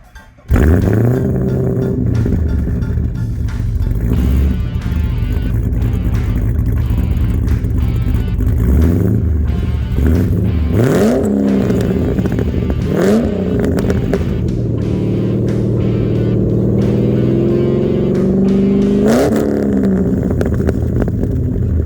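A 2008 Pontiac G8 engine starts and settles into a loud, close idle, then revs repeatedly, each rise in pitch sweeping up and falling back to the steady rumble.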